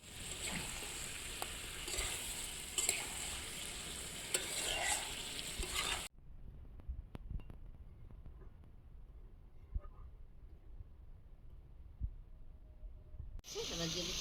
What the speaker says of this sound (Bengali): এবার বেগুনগুলো দিয়ে দিলাম, দিয়ে নেড়ে